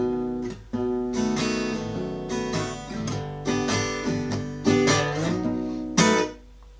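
Strummed acoustic guitar chords ring out in short, rhythmic bursts, each stab followed by a brief decay, played alone and close.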